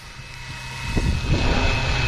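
A FLYWING BO 105 RC helicopter's motor whines and hums steadily, a high tonal drone with rotor buzz growing slightly louder, close by and unaccompanied by voices.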